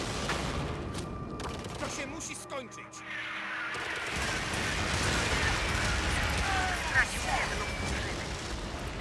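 Artillery fire in the strategy game EndWar: someone talks at first, then a swelling wall of booming shell impacts and crackling explosions takes over and keeps up, loud and rolling, under his continued talk.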